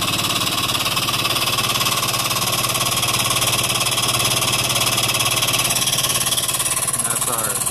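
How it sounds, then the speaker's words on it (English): A pump running on a Ford 6.0L diesel engine makes a loud, steady mechanical drone and vibration with a constant rhythmic pulse that carries through the whole stretch. "let's go ahead and turn on the pump and we'll show you how it works."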